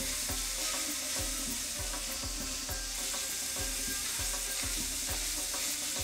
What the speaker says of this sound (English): Fry the onions and meat together.